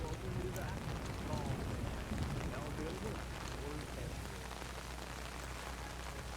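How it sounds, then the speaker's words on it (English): Steady, dense rain in the video game Splinter Cell: Chaos Theory hisses continuously throughout, a constant wash of falling water with low rumbling underneath. "Man, it's really raining."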